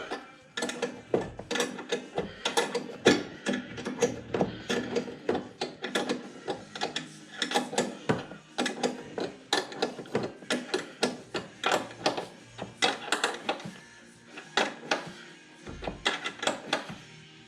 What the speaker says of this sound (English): I'm going to use a wrench to tighten this front one so I can leave the seat up.